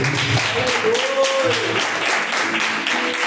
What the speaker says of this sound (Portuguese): Palmas para o nosso Jesus.